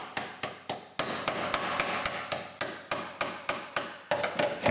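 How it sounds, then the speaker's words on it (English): A steel breaker is hammered through a spot weld in the floor of a 2015 chassis for a 1965 Mustang, about fifteen sharp metallic strikes in a steady, quick rhythm, loud and close with no speech. "put the breaker at about a 30-degree angle, even 45, and you hammer it into the rocker"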